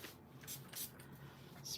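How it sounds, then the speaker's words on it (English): A spray bottle mists onto a paper card in a few short, quiet hissing bursts, with soft rustling between them. "Let me spray real quick."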